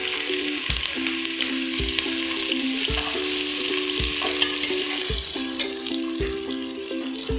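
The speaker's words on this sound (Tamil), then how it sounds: "இப்போ வெங்காயம் சேர்த்துக்கலாம்." Onions frying in oil with spices for mutton biryani in a pressure cooker, a steady close sizzle broken by regular scraping stirs of a spoon, no talking.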